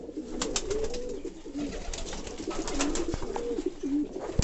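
Pigeons, King and fancy flyer breeds kept in a loft, coo repeatedly in soft rolling calls against a quiet background, with a few faint clicks and taps.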